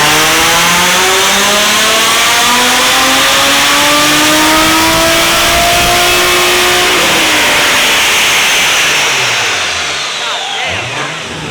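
Nissan 350Z with an HR engine revving hard on a dyno pull, one loud continuous sweep rising steadily in pitch for about seven seconds before the throttle lifts and the note falls away.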